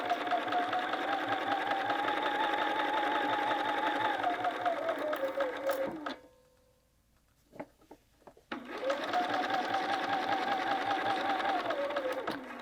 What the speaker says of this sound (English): sew around, making sure that your binding stays aligned with the edge of your jacket